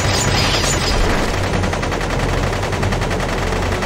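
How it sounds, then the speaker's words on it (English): Gunfire from the Baten Kaitos Origins video game is a dense, continuous rattle of rapid shots, loud and unbroken throughout, with no voices over it. "Open fire."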